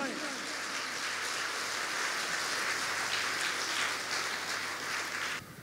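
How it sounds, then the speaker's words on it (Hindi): Church congregation clapping hands loudly in unison during worship, a dense steady wash of applause lasting several seconds before cutting off near the end, with a voice faintly underneath. "जोर से ताली बजाएं।"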